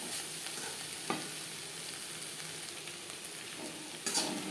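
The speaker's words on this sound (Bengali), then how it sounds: "কাঁকরোলের সাথে নারকেল ও কাঁচা লঙ্কা বেশ ভালো করে মিক্স করে দেবো" Pointed gourd fries with grated coconut and green chilies in a pan, a steady close sizzle broken by a few sharp scrapes of a spatula stirring, with no one speaking.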